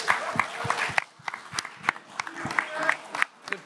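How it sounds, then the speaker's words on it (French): A live audience at a Paris trivia quiz event breaks into scattered applause, with distinct individual claps, some cheering and crowd murmur, moderately loud and uneven, with people talking through it. "ça mérite quand même des applaudissements"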